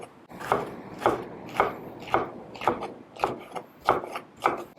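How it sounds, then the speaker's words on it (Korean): A kitchen knife cuts thin slices of red paprika (bell pepper) on a cutting board, giving a steady series of crisp, evenly spaced chops about every half second, close and fairly quiet. "이럴 때는 이걸 얇게 이렇게 좀 썰어주세요"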